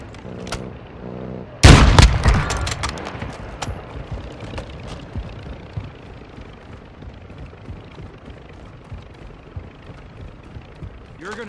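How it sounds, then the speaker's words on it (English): A sharp burst of video game gunfire cracks once up close, followed by a few scattered fainter shots and a low rumbling background. "Gunshots?"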